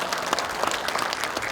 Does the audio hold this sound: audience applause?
yes